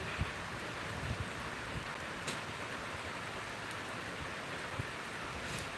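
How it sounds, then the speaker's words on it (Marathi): Rain falls steadily outside, a soft even wash with a few faint drips. It is heard alone with no talk and stays constant throughout. "छान पाऊस आहे सकाळपासून चालू"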